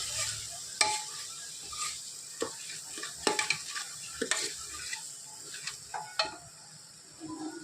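Onion-garlic masala with chilli powder and hing sautéing in butter in a pan, with a soft steady sizzle under repeated scraping and stirring clinks of a spoon against the pan, fairly close.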